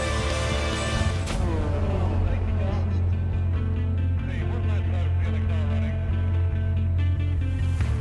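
A BMW M1 Historic GT4 race car engine in the Project Cars racing game drones steadily and loudly, its pitch rising and falling through gear changes as the car accelerates during a race.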